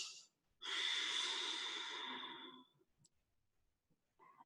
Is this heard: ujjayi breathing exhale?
yes